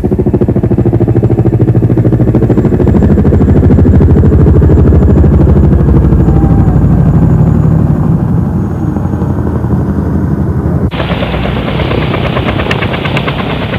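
Boeing Vertol CH-46 Sea Knight military helicopter, steady loud rotor thump and engine roar throughout, with a sharp shift in tone near the end.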